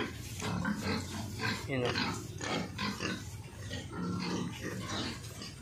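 Native pigs on a rural Philippine farm grunt and oink repeatedly at close range, mixed in with steady conversational talk throughout.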